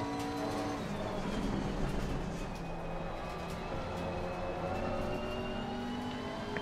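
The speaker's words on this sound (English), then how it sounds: "Adam, how's the older McLaren sound?" An older McLaren 650S race car in Assetto Corsa Competizione at the Red Bull Ring gives a continuous, dense engine drone with shifting tonal whine. It sounds like a steady run on track and is fairly loud, with no talk.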